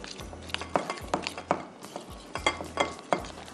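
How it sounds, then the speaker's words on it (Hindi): Chicken pieces stirred through a thick marinade in a mixing bowl, with a run of wet squelching strokes and light clinks from a spoon against the bowl, close and steady with no talking. "अच्छी तरह से आप इसको मिक्स कर दीजिए"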